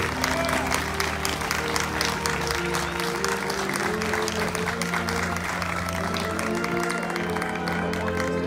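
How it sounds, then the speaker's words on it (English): Crowd applause at an outdoor statue unveiling honoring a WWII USS Indianapolis veteran in Benicia, a steady wash of many clapping hands over a low background hum, sustained throughout. "Let's give Harold a round of applause, folks"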